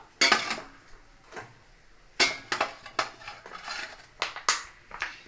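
Bowls holding bread bun dough are set down one after another onto a metal plate for baking, giving a series of close, light clinks and knocks with short pauses between them.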